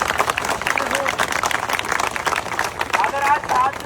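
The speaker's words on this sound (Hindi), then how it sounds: "तालियां जोरदार" A crowd of students at a protest bursts into loud, sustained applause and cheering, the dense clapping filling the whole stretch with voices shouting over it.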